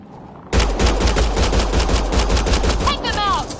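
Rapid automatic gunfire in the Mass Effect Andromeda video game erupts suddenly and continues as a dense, loud rattling burst, with a brief whooshing sci-fi effect near the end.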